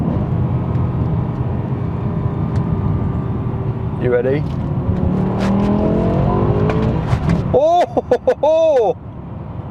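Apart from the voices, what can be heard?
V10 BMW M6 downshifting to second gear and accelerating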